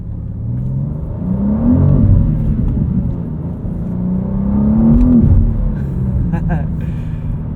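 A 2023 BMW M2 with a six-speed manual driven at night, its engine note rising and falling in smooth revs under a steady cabin drone, with a voice talking over it.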